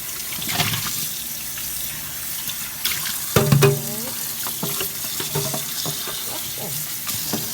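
Running tap water splashes over freshly picked grapes in a sink, a close, continuous gush with clattering and sloshing as the fruit is rinsed by hand.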